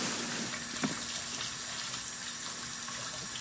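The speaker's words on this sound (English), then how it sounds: "So I'm just rinsing all that to clean it, then removing the back part." A crab is rinsed under a running kitchen tap, a steady close hiss and splash of flowing water with small shifts as the stream hits the shell, no voices.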